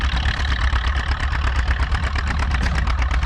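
A John Deere G tractor engine pulls a two-bottom plow at a plow day, a loud, steady low-pitched chugging with an even rapid pulse, close by and without voices.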